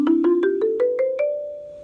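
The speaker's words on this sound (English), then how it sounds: "Then after that, you're going to go from the C all the way up to the next D." Marimba struck with mallets in a quick rising run of nine notes from C up to the next D, each note ringing clearly, the last one sustaining and fading, close and alone.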